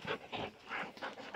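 Three dogs under a desk pant in quick, rhythmic bursts, close and fairly loud, with short pauses between breaths and no talking.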